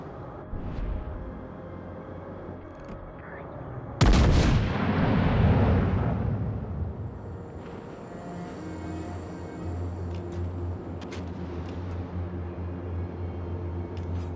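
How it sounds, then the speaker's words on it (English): A loud naval gun salvo fired at an enemy warship in World of Warships: Legends: a sharp blast followed by a long rumbling boom that fades over a few seconds, then a low steady background hum. "Concentrate fire on the enemy warship."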